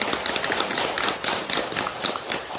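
Applause from a gathered crowd at a Buddhist ceremony at a temple in Gapyeong, Gyeonggi-do, honoring a monk: steady, dense clapping that stays fairly even throughout, with no talk over it.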